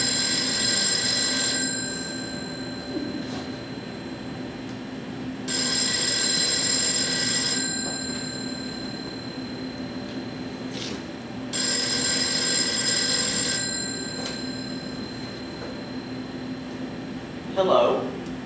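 An old-style telephone bell rings on a high school theatre stage in three long bursts separated by pauses, loud and bright over a steady room hum.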